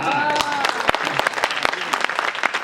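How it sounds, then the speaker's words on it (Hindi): Audience clapping at a Hindi poetry gathering (kavi sammelan) in a Barabanki colony, a dense burst of applause with sharp individual claps, loud and close, over faint background voices. "ऐसे नहीं, ताली बजा के बताओ।"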